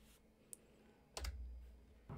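Faint, sparse taps on a computer keyboard sound while typing into a browser, with a few isolated key presses and one brief cluster of clicks.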